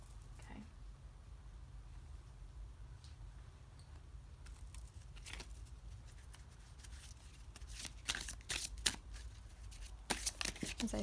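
Tarot cards are shuffled by hand, quiet and close. Soft rustling builds toward the end into brisk crisp riffles and flicks over a low steady background hum.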